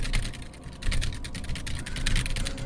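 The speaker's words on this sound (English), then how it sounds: "Mash keyboard." Rapid, uneven key mashing on a computer keyboard, a dense run of clicky keystrokes during a Final Fantasy XIV session, close and steady for a few seconds with no voices.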